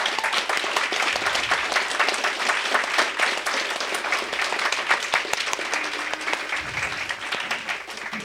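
Sustained audience applause at a talk about bees, a dense, steady roar of many hands clapping at close range for the whole stretch, with no voices over it.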